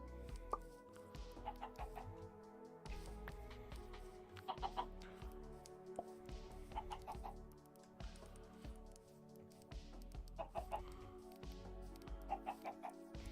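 Minecraft chickens cluck in short repeated bursts over a steady bed of game music and ambience, moderately loud and scattered through the scene.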